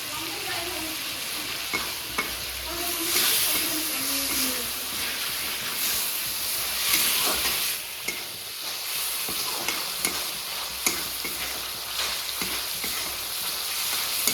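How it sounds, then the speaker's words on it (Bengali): Prawns frying in a pan with salt, turmeric and slit green chillies, a steady loud sizzle and crackle with occasional stirring scrapes throughout. "এই দেখ লাল লাল করে ভাজা হচ্ছে চিংড়িগুলো।"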